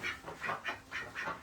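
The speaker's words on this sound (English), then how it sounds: "The chickens, they make noise." Chickens in a coop at morning feeding cluck in a quick repeating series of about six short, nasal calls, close and fairly quiet with no talking.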